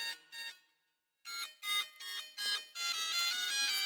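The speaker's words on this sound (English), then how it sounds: "My alarm's going off, and I can't get up there to see it." A home alarm sounds in repeated electronic tone bursts, close by and fairly loud, pausing briefly before resuming and then ringing continuously.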